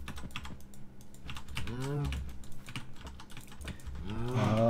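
Cows on a Minecraft farm moo twice in long, wavering calls over steady computer keyboard clatter and mouse clicks.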